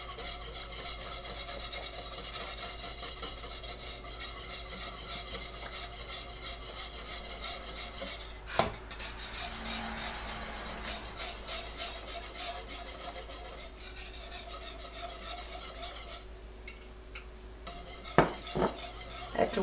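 Pectin being stirred slowly into boiling tomato juice in a pot for tomato jelly, giving a steady, close scraping and rubbing of a utensil against the pot, with a few sharp clinks and taps near the end.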